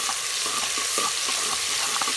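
Onion with ginger garlic paste fries in a pan with a steady bright sizzle, broken by light scraping clicks as it is stirred.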